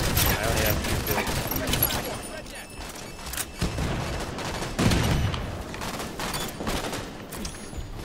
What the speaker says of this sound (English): Oh, it's your sniper rifle